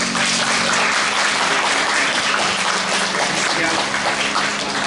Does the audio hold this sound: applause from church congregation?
yes